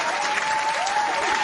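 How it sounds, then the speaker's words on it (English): A podcast audience applauds in a short, loud burst of dense clapping that stays even and unbroken throughout. "Round of applause, man."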